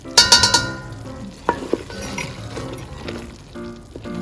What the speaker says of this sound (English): we're going to keep stirring this for about 45 minutes